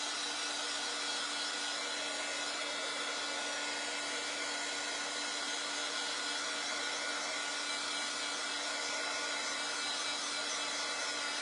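A handheld dryer blows steadily over a chalk paste stencil layer, a constant whooshing drone with a fixed hum, running alone without pause and with no speech.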